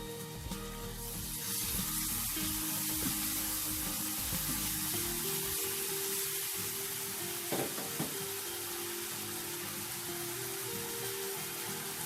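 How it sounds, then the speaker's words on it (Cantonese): Salted fermented soybean paste fries over low heat, giving an even, close hiss with soft stirring scrapes and a few brief clinks, with no one speaking. "爆一爆呢個麵豉"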